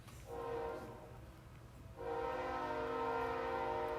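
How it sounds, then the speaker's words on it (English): Synthetic train whistle sound effect: a steady, harmonic horn tone blown twice, a short blast followed by a longer sustained one, loud and alone with no talking. "plus another train whistle."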